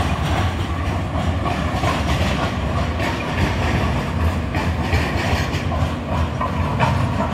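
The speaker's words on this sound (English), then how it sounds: "this train is actually making a turn left" A UTA TRAX light rail train turns left near an arena in Salt Lake City, its wheels rumbling and clacking steadily with faint hiss, loud and close throughout with no talking.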